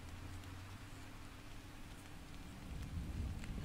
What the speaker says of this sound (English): And it's raining outside. In game, at least.